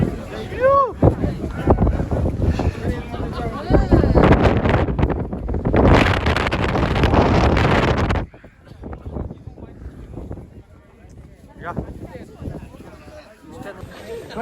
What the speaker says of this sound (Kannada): ಫುಲ್ ಗಾಳಿ ಅಂದ್ರೆ ಗಾಳಿ